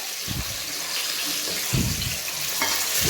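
Chicken pieces for KFC-style chicken sizzle in hot oil at 180 degrees, a loud, continuous crackling fry with occasional soft stirring bumps.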